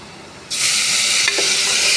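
Ginger paste hits a hot pan and breaks into a loud, steady sizzle of frying that runs unbroken to the end, with a brief stir or clink partway through.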